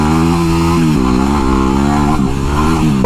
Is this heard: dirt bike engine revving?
yes